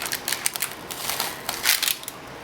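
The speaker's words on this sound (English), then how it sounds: "we're going to take our knife and we're going to cut" Knife slicing cream cheese Danish pastry dough diagonally for a braided top, a series of soft, quick crisp cuts and taps close by, steady and fairly quiet.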